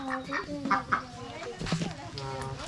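Pekin ducks quack in short nasal bursts, mixed with people chatting nearby in a countryside setting in El Salvador.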